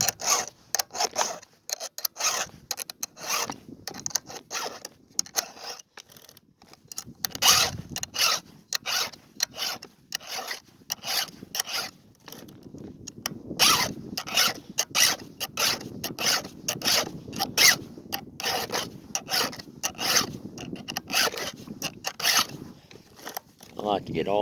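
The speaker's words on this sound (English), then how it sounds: "So we'll sharpen that with this new circle file." Husqvarna round file scrapes across a chainsaw chain in a steady rasping rhythm of short, close strokes, with brief pauses and a voice speaking between passes.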